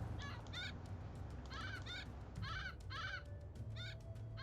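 Repeated honking bird calls in short bursts over a steady low hum and background din, from an owl soldier transforming into a bird in Age of Mythology: Divine Edition.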